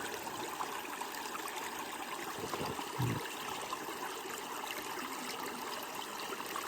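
Water runs steadily through a gold sluice box outdoors in a continuous trickling rush, with a soft splashing disturbance partway through.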